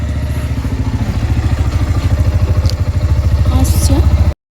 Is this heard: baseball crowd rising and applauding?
no